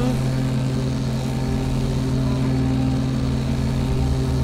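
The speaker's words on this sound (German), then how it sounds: "Kennst du schon Mr. Kettensäge?" A chainsaw runs in Doom 3 with a steady, droning motor hum that stays constant and close throughout, without pauses or revving changes.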